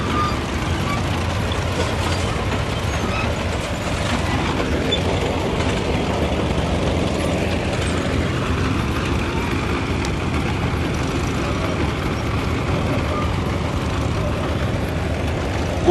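Antique Best 30 crawler tractor driving past in a show parade, a steady low engine rumble and clatter that holds loud and continuous throughout with broad outdoor noise.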